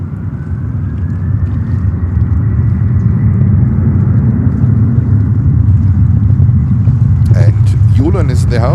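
A heavy airliner taking off from JFK runway 31 left produces a steady, loud, low jet rumble that holds throughout, with a voice briefly speaking near the end.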